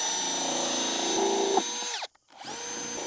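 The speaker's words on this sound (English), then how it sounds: "Now I can drill out all the holes." A power drill runs at a steady high whine, drilling forward and then finishing in reverse, while boring holes for grow spikes in a hydroponic pineapple setup. It winds down, stops briefly and spins up again, loud and close with no talk.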